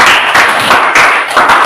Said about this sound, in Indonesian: Ya, tepuk tangan kepada